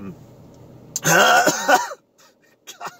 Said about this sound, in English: I went to clear my throat